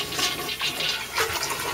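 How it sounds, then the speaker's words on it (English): A toilet flushes during a home inspection, a steady rushing and gurgling of water with surges of swirl and refill running for the whole short stretch, fairly close and with no talking. "And we're going to flush it. You want to flush it."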